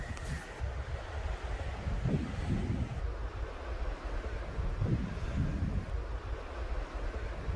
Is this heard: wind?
yes